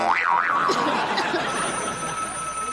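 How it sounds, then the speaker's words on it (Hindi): A warbling electronic phone ringtone wobbles up and down in pitch, fairly close and steady, then settles into a sustained tone. "साला फोन बहुत घनघना रहा है।"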